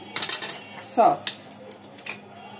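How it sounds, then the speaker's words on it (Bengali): A spoon stirring spices into food in a metal pot, a few quick scraping clinks and knocks at an irregular rhythm, close and fairly sharp, no voices. "নাড়াচাড়া দিয়ে একটু মিশিয়ে দিচ্ছি"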